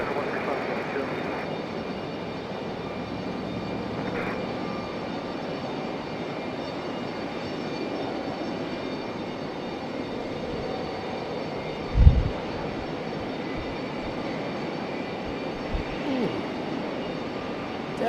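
A JetBlue airliner lands at Raleigh-Durham International Airport with a steady, distant engine roar across the whole stretch, plus a brief thump partway through, while people talk in the background.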